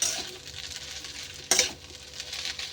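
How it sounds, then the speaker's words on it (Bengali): Egg being stirred into chow mein in a frying pan: a steady close sizzle with a sharp clatter of utensil against pan partway through, no voices. "ডিমটা নেড়ে নেবে একটুখানি।"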